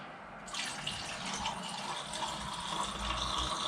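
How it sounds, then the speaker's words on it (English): Tap water at about 20 degrees gushes steadily from a faucet, starting abruptly after a brief quiet moment and continuing as an even, close splashing rush, with no talking, while black-and-white film developing is prepared at home. "here I have tap water"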